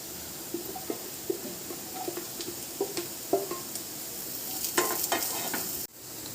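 Onions sauté in a pan with ginger, garlic, green chilli and curry leaves, giving a steady close sizzle with repeated spoon scrapes and taps. It cuts off abruptly near the end.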